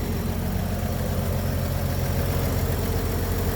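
A 1954 Chevy truck's 235 engine idles smoothly and steadily, a low, even rumble that holds constant and close throughout with no voices.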